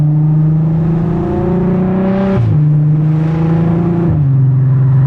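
A loud, deep straight-piped exhaust on a VW Passat R36 drones steadily from inside the cabin, its pitch dipping briefly twice as gears change, with no talking.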